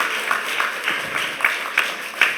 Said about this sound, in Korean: 우리 다시 한번 큰 박수로 축복하겠습니다